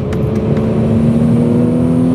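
Nissan V6 engine swapped into a BMW 330i, pulling hard in second gear, a steady loud engine drone holding one note close up from inside the car, with no talking.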